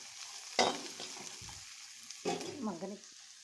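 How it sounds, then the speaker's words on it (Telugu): Thinly sliced red onions fry in oil in a pan, a steady soft sizzle with louder stirring bursts near the start and again later, fairly close and moderately quiet. "ఆయిల్ వేసానండి. ఎర్రగడ్డలు వేసా, సన్నగా కట్ చేసుకున్నాను."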